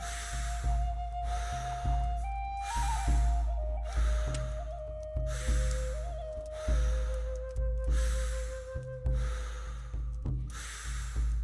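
Deep, rhythmic breaths during a breathwork exercise, forceful inhales and exhales repeating about every second and a half over a soft, sustained musical tone.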